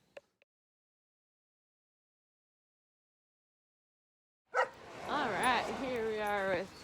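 Dogs bark on a walk past them. Near-silence comes first, then from about two thirds of the way through a loud, sustained burst of yelping, wavering barks runs to the end.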